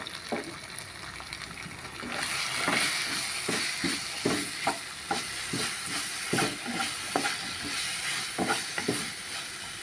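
A spoon stirs Maggi noodle masala with red chili sauce and tomato ketchup in a pan, rhythmic scraping strokes repeating over a continuous low sizzle, close and fairly quiet.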